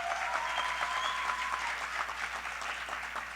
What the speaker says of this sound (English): you can make some clap now, man. Clap up, yeah?